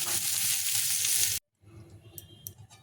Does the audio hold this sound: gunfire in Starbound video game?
no